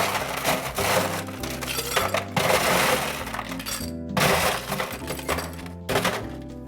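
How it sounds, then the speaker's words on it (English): Fresh ice cubes tumble into a hurricane glass for a Hawaiian Eye cocktail, a loud run of clattering, clinking bursts with short pauses between pours. "grab a hurricane glass, fill it full of fresh ice"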